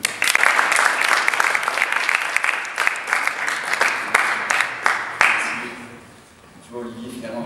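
Applause fills the room at a Tolerantia awards ceremony held by SOS Homophobie, loud overlapping clapping with a few sharp individual claps standing out, tapering off toward the end as a voice begins speaking.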